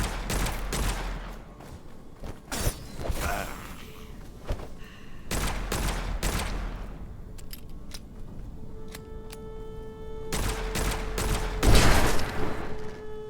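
Pistol fire in the video game Witchfire rings out in sharp, irregular bursts of cracking shots, some in quick clusters, over a low game ambience with occasional tonal effects.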